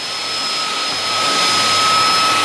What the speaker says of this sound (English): vacuum as needed